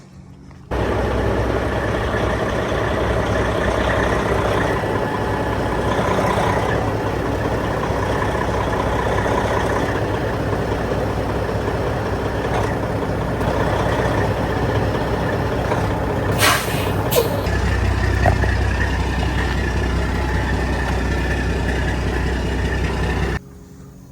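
A truck with a cracked oil pan starts up and settles into a steady, loud diesel idle that rumbles on without a break for over twenty seconds, with a brief hiss partway through.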